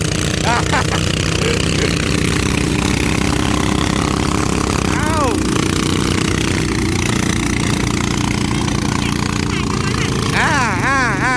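Walking tractor engine running steadily in a field, a loud continuous mechanical drone with revving swells, while people talk over it throughout.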